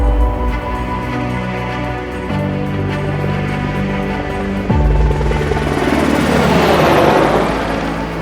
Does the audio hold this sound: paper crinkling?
no